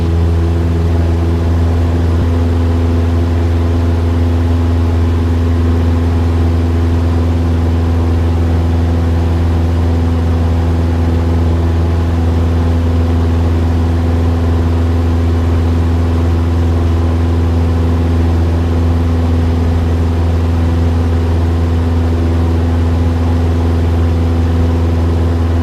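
A small aircraft engine drones steadily at high power during climb-out after takeoff from Ontario International Airport, a loud, constant hum heard from inside the cabin with no talk.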